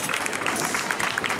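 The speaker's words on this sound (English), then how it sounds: "Give them a round of applause here." A stadium crowd at a national athletics championship in Barbados applauds competitors, a steady dense wash of clapping heard from a distance.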